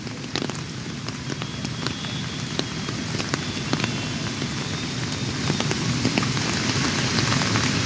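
Heavy rain pouring down in Kolkata, a dense steady hiss of drops on surfaces with occasional sharper splashes, constant and fairly close, no voices.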